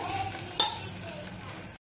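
Onions frying with whole garam masala, soft steady sizzle and a single sharp clink of the spatula on the pan, close and quiet, no voices.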